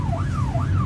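A police car siren wails nearby, rising and falling in a fast repeating sweep over low road rumble from a moving car.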